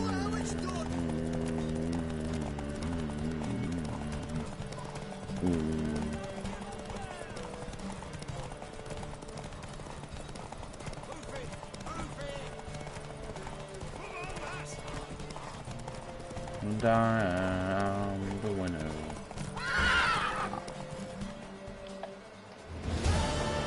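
Hoofbeats clip-clop from a horse in the Witcher 3 video game, with occasional neighs and whinnies rising above in-game music and character dialogue, while a player talks over it at moderate volume.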